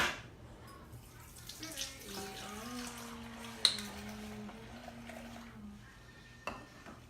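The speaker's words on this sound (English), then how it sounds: "go ahead and pour that in the batter bowl." Milk pours from a measuring cup into a batter bowl for mint chocolate chip ice cream, a faint trickle with soft clinks of dishes, and a quiet voice talks over it in a kitchen.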